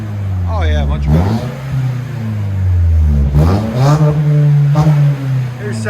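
A 2022 Toyota Corolla XSE with a muffler delete revs repeatedly, the exhaust note rising and falling in several loud swells close by, with a steady idle drone beneath.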